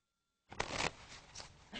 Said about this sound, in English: you shuffle these for me.